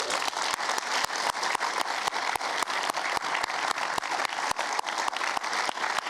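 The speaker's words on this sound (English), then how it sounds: "Please give him an applause." An audience at a medical school white coat ceremony applauds steadily, a dense wash of many hands clapping that holds at an even volume throughout, with no speech over it.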